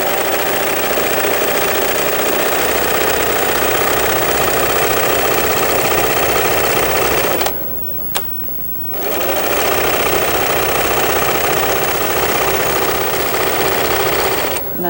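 A home sewing machine stitching a seam, a loud, steady, rapid mechanical whir and knock running continuously, stopping abruptly for about a second and a half partway through before starting up again at full speed.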